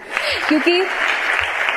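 Audience giving loud applause for honoured guests at a Zordaar event, steady clapping throughout with a voice speaking over it.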